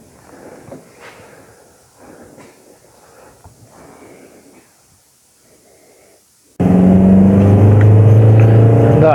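A VW Touran 2.0 TDI diesel engine on a test drive, heard first as faint intermittent rumbles, then a sudden loud, steady revving drone that fills the last few seconds.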